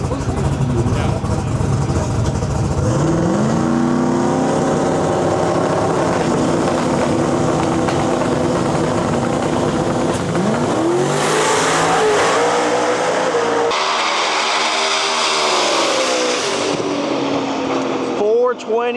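X275 drag race cars, including a 6th gen Camaro, on a qualifying run, with loud roaring engines accelerating hard and sweeping past, and a pitch sweep near the middle; an announcer talks over the engine noise.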